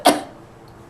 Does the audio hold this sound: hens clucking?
no